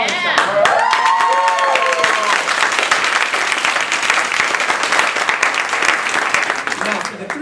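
Loud, dense applause from an audience at a Toastmasters district conference, close and sustained for about seven seconds with a few whoops near the start, fading slightly at the end.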